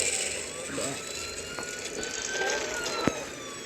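Police car siren in a video game, a wailing tone rising and falling at moderate distance over engine rumble, with voices talking over it.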